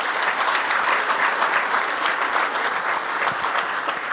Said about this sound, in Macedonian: Честитки, еден голем аплауз уште еднаш